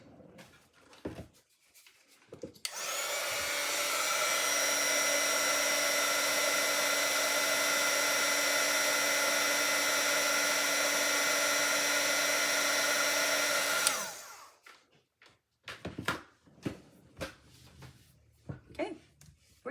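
A heat tool blows with a steady, even whir for about eleven seconds while heating an embossed card panel, then cuts off, leaving faint handling and tapping sounds.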